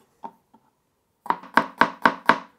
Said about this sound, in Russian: половину нарезал просто колечками, потому что нам от него нужен аромат